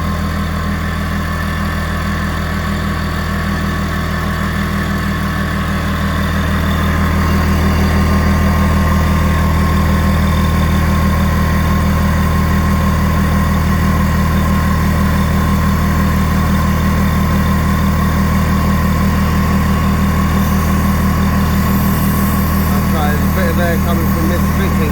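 A DeWalt DCP10QTC quiet air compressor runs up close, filling its 9.4 litre tank with a steady droning motor hum that swells slightly partway through and holds evenly throughout.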